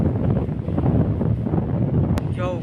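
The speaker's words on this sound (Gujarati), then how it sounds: "જો કેટલો પવન છે" Strong storm wind during a cyclone buffets the microphone in a steady, loud roaring rumble, with a brief sharp crackle near the end.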